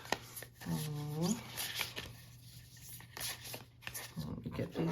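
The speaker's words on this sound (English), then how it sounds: "I will start by choosing 3 cards" Tarot cards being shuffled and handled, a steady papery riffle and slide that runs throughout with sharp flicks, under a hum and brief voice-like tones.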